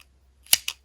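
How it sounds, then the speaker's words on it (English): Scissors snip through bulky yarn at the end of a crochet basket: two quick, crisp cuts close by in a quiet room, with no one speaking. "Cut your yarn."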